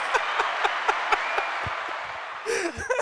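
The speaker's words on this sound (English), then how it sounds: "Where's that crowd noise?" Crowd-noise sound effect used as a show intro: a dense wash of applause and cheering with scattered sharp claps, ending in a burst of whoops and chatter.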